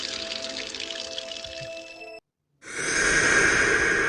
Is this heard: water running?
yes